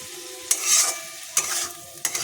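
Spice paste for chicken curry sizzles in a pan while a spoon stirs and scrapes it in three distinct strokes, close and clear over a soft frying hiss.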